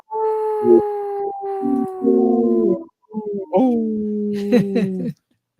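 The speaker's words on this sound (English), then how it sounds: "Howling for Wolves, protecting wolves for future generations." Several wolves howling together, long sustained overlapping wails that rise and fall in pitch, loud and close, with short breaks between drawn-out howls and a yip near the end.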